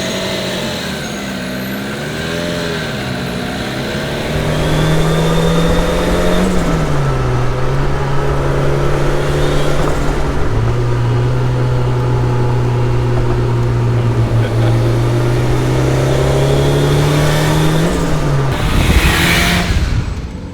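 A Ford RS200 Group B rally car drives with a passenger aboard, its engine holding a loud, steady drone from inside the cabin, with rising and falling pitch as it accelerates and shifts, and a brief swell of revs near the end.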